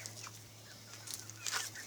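PMD large-breed chickens make a few faint, short clucks and chirps at a distance against a quiet background with a low steady hum, and no one speaks.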